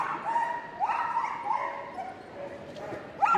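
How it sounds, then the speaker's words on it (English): Red merle Border Collie giving high, screaming yelps and barks during a championship agility run, a few sharp cries at the start, middle and end amid a noisy arena crowd. "She said about barking, it's more like screaming."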